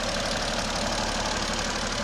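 A 2011 BMW 335 diesel engine idles steadily throughout, a dense continuous clatter with a knocking texture and low rumble, close and fairly loud, with no voices over it.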